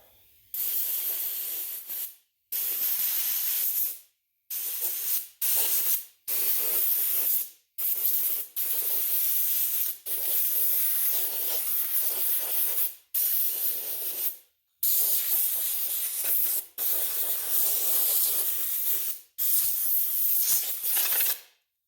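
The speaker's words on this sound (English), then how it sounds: "I pressurized the compressor to 150 pounds, let it all go into the gun" A compressed-air gun fed from a compressor pressurized to 150 psi fires about a dozen loud hissing blasts of varying length, separated by brief silences, close to the listener and with no talking.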